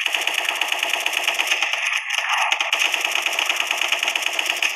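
Rapid automatic fire from a Gatling gun in the Special Force 2 video game, a continuous dense rattle of shots that runs steadily without a break, loud and close.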